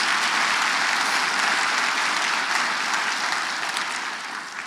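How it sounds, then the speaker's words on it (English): An audience at a county government State of the County address gives a sustained round of applause for the county employees. The clapping is dense and continuous, then fades slightly near the end. "Please, let's give the county employees a round of applause."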